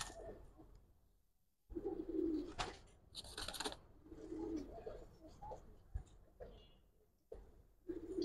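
Pigeon cooing from a pair of Giribaz (Gribaz) pigeons at a bird market: low, soft coos repeating in short bursts at close range, with faint background clatter and no talk.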